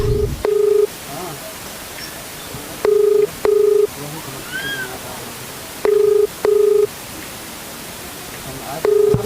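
Outgoing phone call ringback tone repeating in regular double pulses, loud and close over hissy line noise, with faint voices between the rings.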